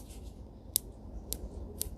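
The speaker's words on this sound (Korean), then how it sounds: "나무 수영을 가위로만 전정을 해 볼게요" Hand pruning scissors snip branches of a jangsumae, a dwarf flowering quince: three crisp, separate clicks spaced about half a second apart, quiet and close against a soft background hiss.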